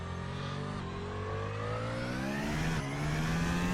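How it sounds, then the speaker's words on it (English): Mercedes W11 Formula 1 car engine in a racing video game, loud and steady, pitch climbing smoothly through the gears during a hot lap with a brief shift near the end, no voices. "Engine sound is really nice as well"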